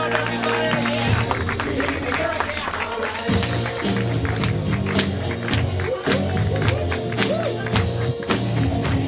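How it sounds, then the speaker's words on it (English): Studio audience applause and scattered clapping at a live event, dense and steady throughout with crowd noise and voices mixed in. "Clap for them. Show them some love, everybody."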